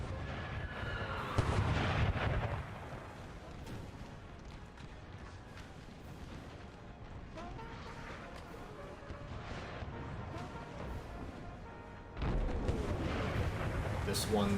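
Cannons firing canister shot in an American Civil War video game battle, with a heavy boom near the start and another near the end, amid a continuous rumble of distant gunfire and battle noise.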